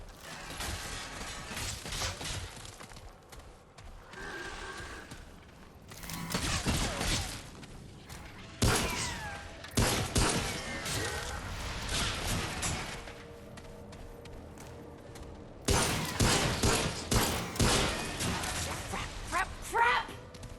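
Pistol shots and mechanical clatter ring out in the dark-fantasy video game Remnant: From the Ashes, in bursts with impacts and combat noise, while a player talks over the action.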